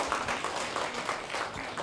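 Audience applause at a Korean Buddhist temple dharma service, thanking a singing group after their performance; steady, moderately loud clapping from a crowd with no pauses.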